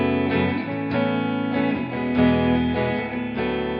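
An electric guitar played through Logic Pro's Brit Reverb amp simulator rings out in sustained, slightly distorted chords with a touch of reverb, loud and alone.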